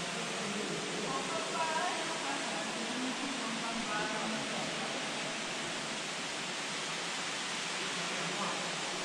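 A waterfall at the bottom of a mist-filled sinkhole, producing a broad, constant rushing roar that fills the space evenly, with a voice faintly audible beneath.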